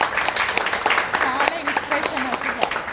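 Students at a makeup academy clap loudly, a dense patter of hand claps mixed with cheering voices over a few seconds.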